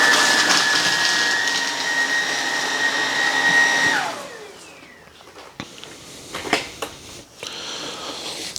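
A Hoover Emerge Pet vacuum cleaner runs with a steady whining motor hum, then winds down after about four seconds, leaving quieter scattered clicks and handling noises.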